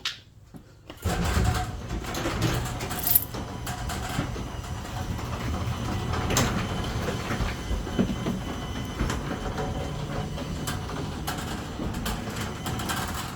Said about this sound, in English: I'm going to go ahead and open the garage door too.